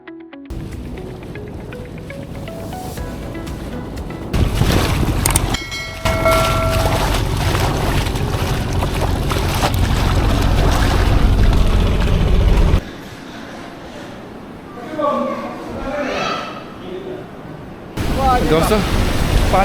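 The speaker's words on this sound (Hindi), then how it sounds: "कश्ती हमारी निकल रही है मनोड़ी की साइड पे," Small boat motoring out of the harbour toward Manora, a steady loud engine and water rumble building after a few seconds, with wind and splashing, then quieter stretches where voices shout and exclaim over the water.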